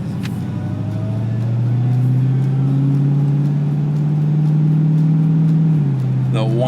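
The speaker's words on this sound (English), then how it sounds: "The whine of that supercharger is extremely addicting." A 2021 Dodge Charger SRT Hellcat Redeye Widebody runs with a steady, loud engine drone and supercharger whine that holds a rising pitch, then eases off near the end under brief talk.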